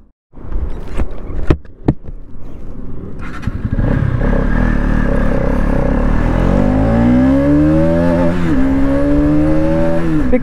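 A KTM Duke 200 or Bajaj Pulsar NS 200 motorcycle during a pickup test. A few sharp clatters come first, then the engine revs up and pulls hard through rising gears, loud, steady and close, with no talk.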